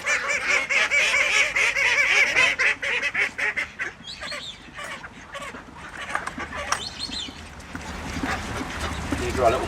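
Many call ducks, white and black East Indian, quack loudly and rapidly in a noisy, overlapping chorus nearby at a waterfowl centre, easing into scattered calls and shuffling sounds.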